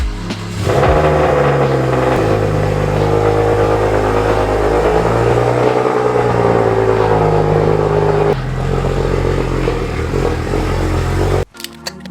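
A BMW 1 Series car being driven and repositioned in a shop, its engine running loudly and steadily close by, then abruptly cutting out near the end.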